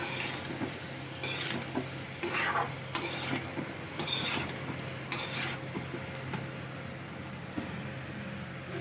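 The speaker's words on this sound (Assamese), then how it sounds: "এইখিনি পানীখিনি নোহোৱা হৈ গ'ল এতিয়া ভালদৰে ভাজি লওঁ" Vegetable curry for an Assamese vegetarian thali frying in a pan while being stirred, with a steady low sizzle and repeated scraping strokes of a spoon against the metal, close and moderately loud.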